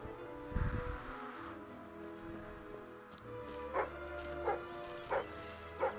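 A dog in the Fable 3 video game barks several times in short, sharp yips spaced across the moment, fairly close, over soft background ambience with a brief low sound near the start.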